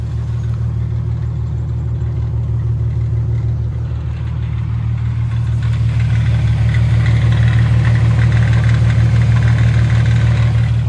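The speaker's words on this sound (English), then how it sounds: "Let me start up the car and see." A Nissan G37 or G35 engine idles steadily with a low hum, growing a bit louder and rougher partway through, close by with no talking.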